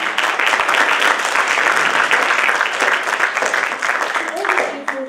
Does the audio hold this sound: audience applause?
yes